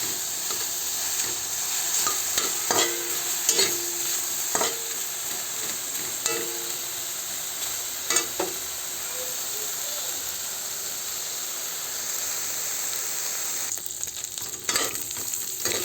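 Tinumis (dinuguan) ingredients fry in a pan until golden brown, giving a steady close sizzle with scattered crackles and pops, plus a few stirring clatters and brief utensil knocks.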